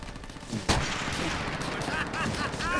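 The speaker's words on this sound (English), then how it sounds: "That was a blind shot right there." A single loud gunshot in Call of Duty: World at War on PC cracks out near the start, followed by a lingering din of battle and scattered game effects, with no talking over it.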